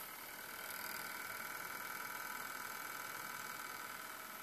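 A Notebook Cooler Pro laptop cooling pad's fan motor runs quietly, giving a steady, soft, even whir and hum with no other sounds.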